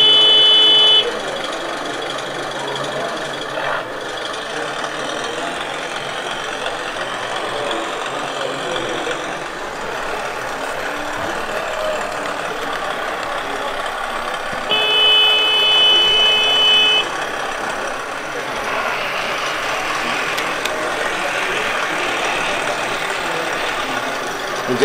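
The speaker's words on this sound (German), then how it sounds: "Und jetzt kann man wieder wie beim Vorbild den Motor anstellen" A 1:32 scale model Klv 12 rail vehicle runs its sound-equipped engine at a model railway show, giving a steady idling drone with a few brief higher horn-like tones partway through.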